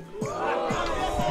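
A crowd boos a rapper at a rap battle, a loud, sustained wash of jeering voices rising and swelling continuously, with overlapping shouts and babble close by.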